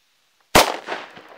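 A Roter Korsar firecracker with 1.5 g of black powder exploding outdoors: a single sharp, loud bang after brief silence, followed by a short fading echo.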